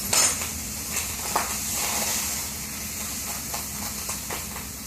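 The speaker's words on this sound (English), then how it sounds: "See how our bacon's cooking?" Bacon made from lunch meat fries in butter in a pan, producing a steady close hiss of sizzling with a few soft clinks of a utensil against the pan and no speech.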